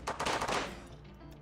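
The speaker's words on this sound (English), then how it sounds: "All right, you two can start firing at will." Gunfire from colonists in RimWorld, a short burst of several quick sharp cracks close together, fading into a softer rumbling tail.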